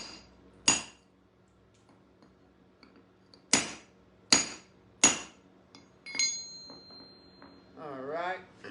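A geode is cracked open with a Dasco Pro tool: four sharp metallic cracks land at separate moments, then small clinks of stone and a voice at the end.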